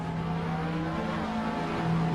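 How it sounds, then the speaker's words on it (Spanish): A car engine hums steadily and up close for about two seconds, its harmonic drone holding nearly level with only faint tire and road noise, and no one speaking. "Este cambio, conocido como efecto Doppler, se debe al hecho de que el frente del coche comprime las ondas de sonido"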